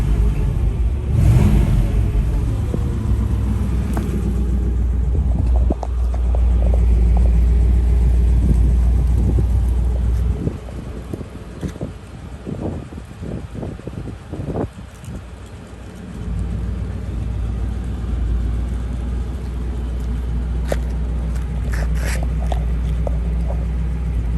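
A 1957 Chevrolet Bel Air with dual exhaust cranks and fires, then settles into a low, steady idle rumble with some mechanical rattles and a brief dip in engine sound midway, heard close and without talk.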